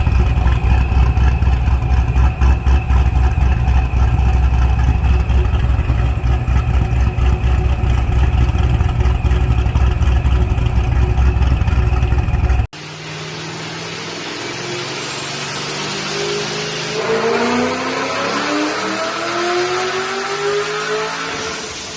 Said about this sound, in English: We got Stefan's car in the dyno now.